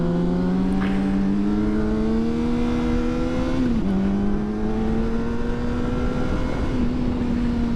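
Motorcycle engine on a road ride, a loud steady drone heard up close with wind rush. The pitch climbs gradually, dips sharply at a gear change, then rises again.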